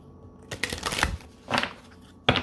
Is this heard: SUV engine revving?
no